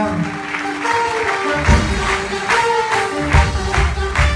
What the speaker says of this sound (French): Mesdames, Messieurs, je vous demande d'applaudir encore très très fort